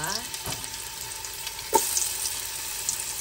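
Garlic frying in hot oil in a home kitchen pan, a steady close sizzle with a brief louder crackle and stir partway through, no talking.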